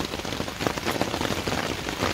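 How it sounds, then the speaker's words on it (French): Steady, dense rain patters close by on a tent at a campsite during a thunderstorm, a continuous hiss of drops with no voices. "Il pleut."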